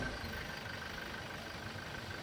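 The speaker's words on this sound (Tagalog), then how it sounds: "Hayaan nyo lang siyang naka-idle." Toyota Innova engine idling after a start, a faint, steady, even hum with no voices.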